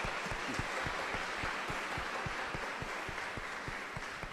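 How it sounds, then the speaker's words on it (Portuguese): A church congregation applauds steadily at Igreja Matriz de Nossa Senhora das Dores in Canindé, many hands clapping together in a warm, continuous patter at moderate distance. "Vamos acolher com uma calorosa salva de palmas."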